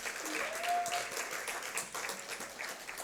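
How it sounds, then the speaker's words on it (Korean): An audience at a church gathering applauds to welcome performers onto a special stage, giving steady, dense clapping from a sizeable crowd that holds evenly throughout at moderate volume. "우리 박수로 한번 맞아주시기 바랍니다"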